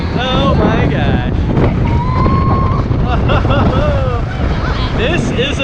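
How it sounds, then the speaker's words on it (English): Strong wind rushes across the microphone high up on the Orlando Starflyer, the world's tallest swing ride at ICON Park Orlando, a constant loud roar under excited rider voices and exclamations. "Oh, wow, it's windy."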